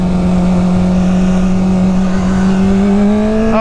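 Honda CBR 600 sport motorcycle engine running steadily and climbing slightly in pitch during a test ride, a loud, continuous close-up drone with no talking.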